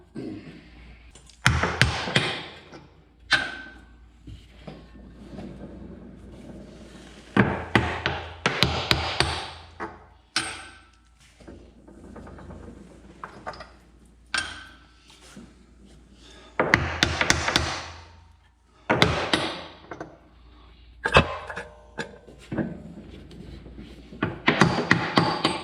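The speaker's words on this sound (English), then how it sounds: "I'm gonna have to go get me a hammer." Repeated hard metallic hammer strikes on a wheel rim come in bursts of several blows separated by pauses, loud and close, with ringing clangs.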